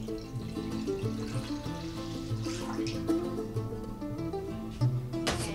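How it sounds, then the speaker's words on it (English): Milk is poured into a saucepan as a steady, faint liquid trickle that runs continuously for several seconds with a few soft knocks. "pour the milk into the saucepan before we put it onto the heat"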